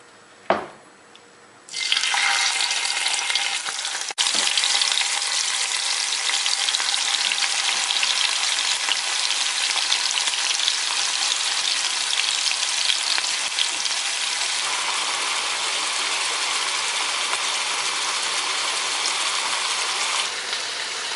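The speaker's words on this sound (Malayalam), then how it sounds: "മാരിനേറ്റ് ചെയ്ത് വെച്ചിരുന്ന പ്രോൺസ് ഒന്ന് ഫ്രൈ ചെയ്തെടുക്കാം" Marinated prawns dropped into hot oil in a frying pan for a Kerala-style prawn biryani: a loud burst of sizzling starts after a brief clatter, then holds as a steady, close hiss for about twenty seconds.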